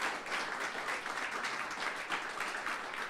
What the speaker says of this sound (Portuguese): Se você crê, dê um aplauso a Jesus.